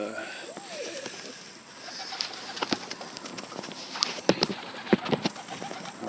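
A very young Portuguese tumbler pigeon that has just left the nest, with soft cooing and sharp wing claps or feet tapping on a surface, several crisp knocks clustered near the end against a faint steady background hum.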